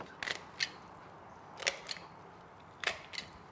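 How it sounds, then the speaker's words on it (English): Kitchen scissors snipping through a whole raw chicken beside the breast for coq au vin, three pairs of crisp close cuts separated by short pauses. "then we're going to cut down the sides beside the breast"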